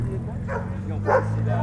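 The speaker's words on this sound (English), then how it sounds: "Dogs." Dogs bark and yip a few times against a steady low vehicle hum, with a voice audible nearby, outdoors at a Citroën centenary gathering in La Ferté-Vidame, France.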